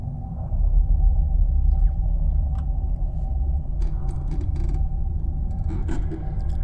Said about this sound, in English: There's so many glow whales.